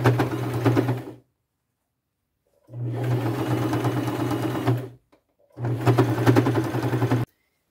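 A sewing machine stitches a denim and quilt skirt in three bursts, each a steady, close, humming run of a second or two, separated by silent pauses.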